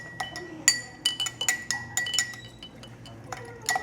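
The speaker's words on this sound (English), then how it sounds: "I'm going to stir it." A spoon stirring a mojito in a glass, bright clinks against the side in quick irregular bursts, close and clear with no talk.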